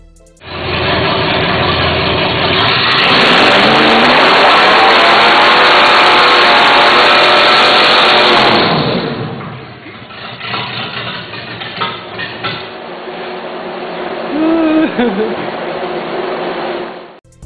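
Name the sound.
1965 Chevy C10 truck engine revving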